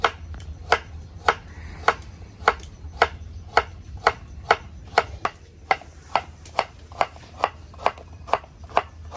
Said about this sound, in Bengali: গাজরটা এখন কাটবো।